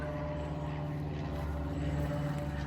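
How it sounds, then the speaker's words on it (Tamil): An airplane passes overhead above a home vegetable garden, a continuous droning engine hum with steady tonal lines, holding evenly loud across the short stretch. "ஏரோப்ளேன் போகுது."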